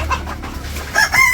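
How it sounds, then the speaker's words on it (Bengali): A hen in a village farmyard clucks in a few short calls near the end, running about restlessly before laying an egg, over low background rumble. "এই যে মুরগিটা, এই যে এটা, এই যে এটাই আর কি ডিম পারবো"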